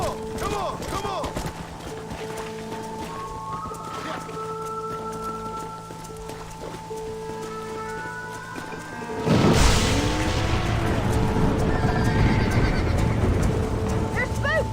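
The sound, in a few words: stampeding horses neighing in video game Red Dead Redemption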